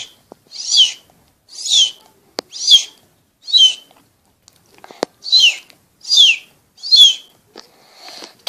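A person whistles in imitation of a bird call, producing about eight separate high warbling phrases at a steady rhythm with brief pauses between them, close and clear with no talking.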